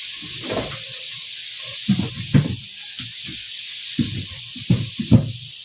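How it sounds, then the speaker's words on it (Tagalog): Steady sizzling hiss of chicken frying in hot oil, with occasional clinks and knocks of utensils over the constant crackle. "ngayon prito na ko yung pinalabas ko kaninang manok piniprito ko na"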